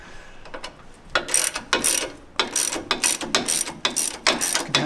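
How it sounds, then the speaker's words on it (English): Ratchet wrench turning an 18mm socket to remove a shock bracket on a Jeep JL Wrangler, a close, rapid series of clicking bursts in quick repeated strokes with short pauses between them. "Go ahead and use an 18mm wrench and socket."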